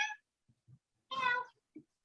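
A small pet cat meows twice indoors, once briefly and then in a longer, clear call. Both are close but quiet, with soft faint taps between them and no talking.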